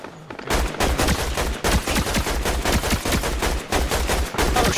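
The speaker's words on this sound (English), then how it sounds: "They're firing on Silva" Video game gunfire: loud, sustained bursts of automatic fire with rapid, dense shots and only brief gaps, filling the whole clip.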